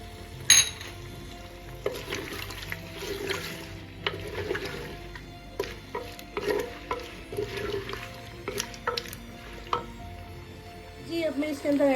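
Potatoes being stirred and fried in a pan as cumin seeds go in: scraping stirs and clinks over a soft, steady sizzle, with someone talking throughout.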